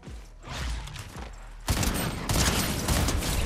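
Video game gunfire in a solo cash cup match, a dense rapid burst of shots that grows louder halfway through, continuous and close, no speech.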